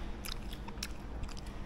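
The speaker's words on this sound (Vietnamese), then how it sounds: "Đây mình thử miếng cá" Crunchy, firm fish from a bowl of Hong Kong-style fish noodles being chewed close up, with a few crisp bites and crunches over a quiet background hum and no speech.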